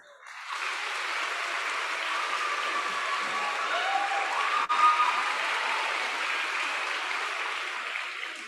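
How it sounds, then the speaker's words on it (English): A crowd at a middle school promotion ceremony gives a sustained round of applause, a steady, even wash of many hands clapping together that continues for several seconds. "Please rise and give them a round of applause."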